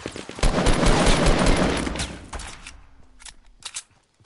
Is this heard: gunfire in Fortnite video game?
yes